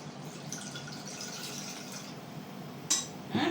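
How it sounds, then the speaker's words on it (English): Water pours into a pan set on an induction stove before vegetables are boiled, a soft, steady splashing trickle that lasts about three seconds, then a brief metallic clink of the pan at the end. "add some water"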